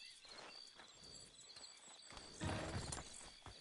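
Horse hooves clip-clop on a road in Red Dead Redemption 2, a steady rhythmic walking beat with a louder burst of hoofbeats near the end, moderately close and with no talk over it.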